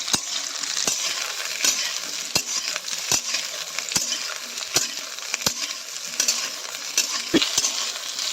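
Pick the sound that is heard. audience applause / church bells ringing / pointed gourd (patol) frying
pointed gourd (patol) frying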